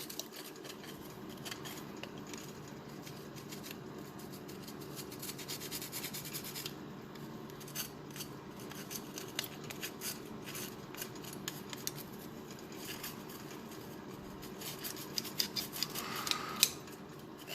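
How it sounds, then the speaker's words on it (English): Scraping a part of a National Detroit DA sander clean, with faint, close, repeated rasping and scratching strokes in a quiet room and no talk. "Scrape that and clean it."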